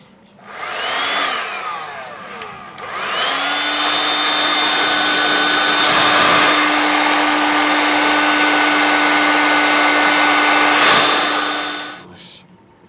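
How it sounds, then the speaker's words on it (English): Heat gun shrinking heat-shrink tubing on wiring while fitting a tail tidy to a 2015 Honda CBR1000RR Fireblade, a loud steady blowing whine that rises in pitch, holds for about nine seconds, then cuts off. "Heat gun."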